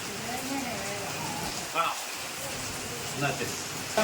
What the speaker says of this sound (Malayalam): എന്നാ മഴയാണ് പറയുന്ന ഒന്നും കേൾക്കാൻ വയ്യ